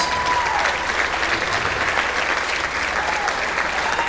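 Audience applause for graduating seniors at the Spring Valley High School concert band spring concert in West Virginia, loud, close and continuous clapping from a packed auditorium, with faint voices mixed in.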